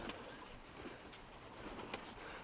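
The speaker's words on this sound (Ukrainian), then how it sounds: "молоденький голубок" Soft, low cooing of a young pigeon sounds faintly against a quiet outdoor background, with a few brief flutters and scratches.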